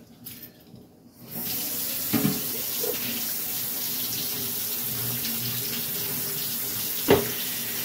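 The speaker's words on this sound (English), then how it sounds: "I'm going to pour the water off and shock it with some ice water" Cold tap water runs hard and steady into a pot of freshly cooked broccoli to shock it with ice water, starting after a brief quiet moment, with a couple of close clunks of the pot against the sink.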